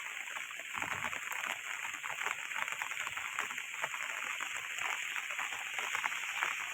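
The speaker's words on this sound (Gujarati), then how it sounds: "અટાણના પણ ધીમી ધારે વરસાદ ચાલુ જ છે" Light, steady rain falls in Rajula, a soft, even hiss of drops and gentle splatter on surfaces that carries on without pause, fairly near.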